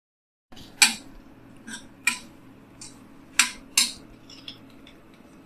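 A metal spoon scrapes and clinks against a pan while broad bean curry is stirred, about six sharp knocks spaced irregularly over quiet background, close and clear.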